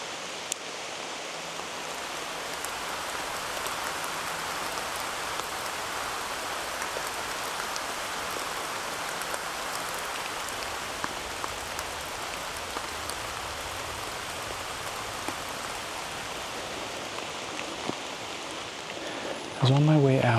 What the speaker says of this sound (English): Have a little bit of a rain shower coming through right now